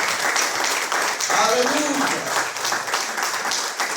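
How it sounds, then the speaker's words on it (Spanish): A church congregation claps in a sustained, moderately loud wash of applause, while a voice calls out briefly in the middle. "Dale un fuerte aplauso al Señor."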